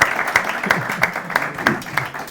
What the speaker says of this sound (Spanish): Hay que aplaudir